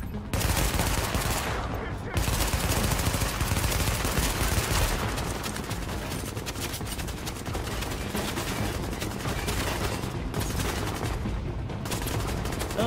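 Rapid bursts of gunfire in Tom Clancy's The Division crackle almost nonstop, loud and dense, with brief pauses between volleys and a faint voice underneath.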